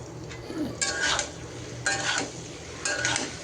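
Vegetables with onion, spring onion and green chili being stirred in a pan, three distinct bursts of spatula scraping against metal over a low steady sizzle, fairly close.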